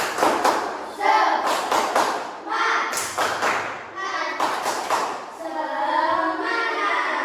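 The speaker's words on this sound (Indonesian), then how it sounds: "Tepuk semangat dulu." A group performs the 'tepuk semangat' chant, sharp unison hand claps in a rhythmic pattern mixed with voices chanting along, loud and close, with bursts of claps separated by short pauses.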